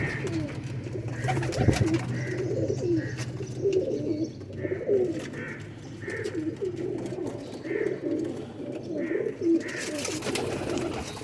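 Pigeons in a breeder's loft cooing in soft, repeated low throaty calls, several birds overlapping steadily and close by, with a faint murmur of background activity.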